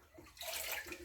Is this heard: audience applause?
no